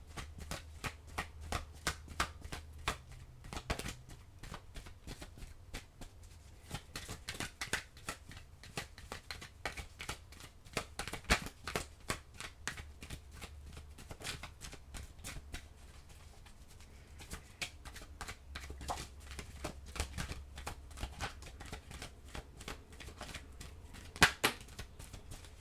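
Tarot cards are shuffled by hand close up and fairly quietly, with rapid riffling clicks and soft slaps repeating in bursts throughout and no talk.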